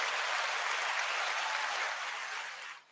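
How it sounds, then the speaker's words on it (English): A crowd applauds in a dense, steady wash of clapping that holds for a couple of seconds, then thins and fades out. "Let's just go ahead and give him a big round of applause."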